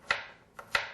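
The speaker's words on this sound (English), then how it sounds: "And then you're just going to chop that carefully" Kitchen knife chopping peeled garlic on a cutting board while making minestrone soup in an everyday kosher kitchen, three light, crisp taps close up, the first two spaced apart and the last two quicker.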